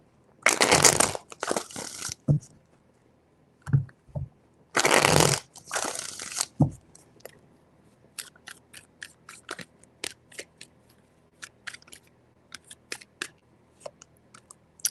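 Tarot cards are shuffled by hand in two loud riffling bursts, followed by softer scattered taps and flicks as the deck is handled and cards are laid out.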